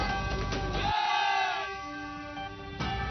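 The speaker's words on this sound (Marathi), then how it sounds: "भारत माता की जय आणि वंदे मातरमच्या घोषणांनी सगळा परिसर दुमदुमून गेलेला होता." A large crowd bursts into roaring, chanting slogans such as Bharat Mata ki Jai and Vande Mataram, a dense swell of massed voices at first that drops into a steadier, quieter tonal background.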